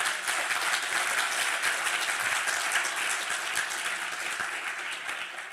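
Applause at the Beverly Hills Bar Association installation and awards dinner fills the room, a thick, continuous wash of many hands clapping that fades slightly toward the end.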